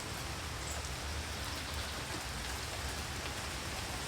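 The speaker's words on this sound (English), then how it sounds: "It's totally raining." Heavy rain pours outside in a dense, continuous hiss of drops hitting surfaces, steady and even throughout with no voices.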